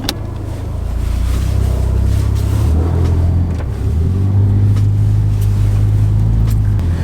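A car engine idles with a steady, deep rumble, its low drone rising slightly partway through and holding close and loud throughout.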